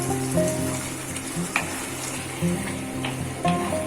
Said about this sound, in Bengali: আমরা ভালো করে ফ্রাই করতে হবে, কাঁচা আদা আর রসুনের গন্ধটা হতে চলে যায়।